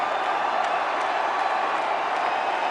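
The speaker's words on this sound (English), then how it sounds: "The crowd getting happy." A cricket stadium crowd cheers as Virat Kohli closes in on a double century against New Zealand, a dense, steady roar filling the whole stretch without pause.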